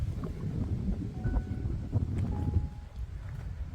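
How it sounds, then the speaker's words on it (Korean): Wind blowing outdoors beside a small, old rural schoolyard with a large tree in Samcheok on a hot day: a steady, low rumbling gust that buffets the microphone throughout, with no talking. "바람이 불어주니까 시원하고 좋습니다."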